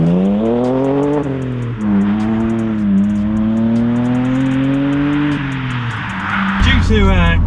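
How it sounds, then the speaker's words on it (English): A BMW Z4 with a modified exhaust drones steadily as it drives, its pitch rising and falling with gear changes, then a brief rev near the end. "we shall go out for a drive in your car and see how it sounds"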